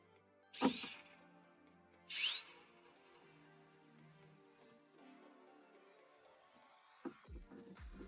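Two short, sharp power-driver bursts as screws are driven into a Snapmaker U1 3D printer, close and separated by a quiet pause, followed by fainter handling clatter.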